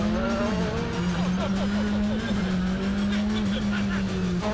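Hyundai i20 Rally1 rally car at full throttle, a loud, continuous close engine drone with a slightly wavering pitch, and a voice faintly audible under the roar.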